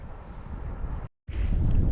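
Gusty wind buffets the microphone during fly fishing for brown trout. A loud, rumbling roar is cut by a brief sudden silence, then the wind surges back even stronger.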